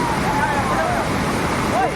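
The Devkund waterfall gives off a loud, steady rushing roar of falling water, close by and unbroken throughout, while people talk over it.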